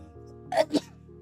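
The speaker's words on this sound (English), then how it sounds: "I'm gonna sneeze." A short two-part sneeze, a sharp intake then a burst, close to the microphone over a steady low hum.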